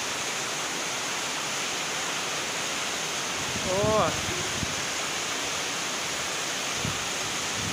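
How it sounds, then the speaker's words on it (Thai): Natural waterfall pouring steadily with a dense, even hiss of falling water that stays loud from start to finish, and a short voice breaking in near the middle. "โอ้โหเอาน้ำตกจากธรรมชาติเนาะ"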